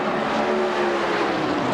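Stock cars race at the 1996 Coca-Cola 600 NASCAR event as the green flag waves, giving a dense, loud, continuous roar of many engines at full throttle.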